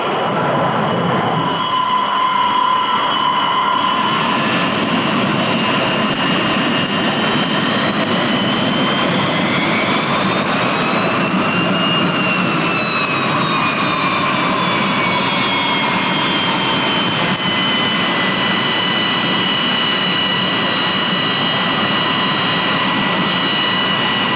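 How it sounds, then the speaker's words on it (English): A loud, sustained propeller-engine drone from a US Navy carrier onboard delivery plane approaching, its tone rising and shifting in pitch as it draws nearer, with no voices. "The approach of the carrier on-board delivery plane is a welcome sight"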